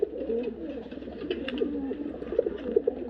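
A hen pigeon at a pigeon sale coos in soft, low, repeated rolling calls, close by, with faint background noise and no speech.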